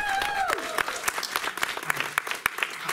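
Audience applause at a live music show where a performer sings, a dense burst of clapping that stays steady throughout, with a voice briefly heard at the start.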